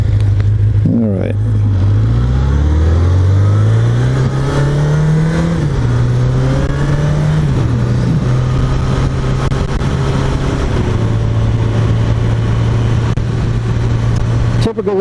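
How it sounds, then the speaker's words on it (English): A 1981 Honda CB750F with an inline four-cylinder engine hums steadily while riding, its pitch rising and falling through gear changes, with wind rush over a smooth, continuous drone throughout. "Typical inline 4-cylinder, very, very smooth."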